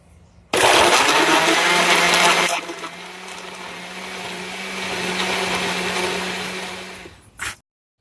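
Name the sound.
electric blender blending jalapenos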